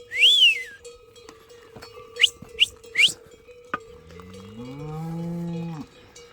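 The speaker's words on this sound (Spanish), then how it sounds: "¡Vaca, mira!" A cow moos once in a long, low, drawn-out call on a farm, preceded by sharp whistles and calls from a herder, with a cowbell clanking faintly in the background.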